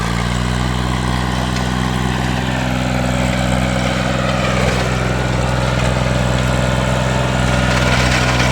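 A Powertrac mini tractor engine runs after an oil service and an ignition fix while failing to build power, a loud, steady close drone with a low hum throughout.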